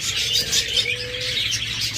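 Pure violet mask (blue mask) lovebirds chirp steadily in a cage, a dense, high twittering that carries on throughout with no pause, close and bright.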